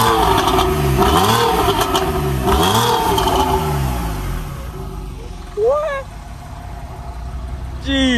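Porsche 911 Carrera engine revving loudly up close in a couple of sharp blips that fall back toward idle, with people talking over and after the revs.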